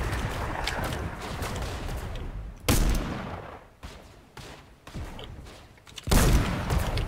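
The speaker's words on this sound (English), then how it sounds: "They're shooting at us." Gunfire in the video game Fortnite: several loud bursts and single sharp shots with quieter gaps between, close and distant, with no talking.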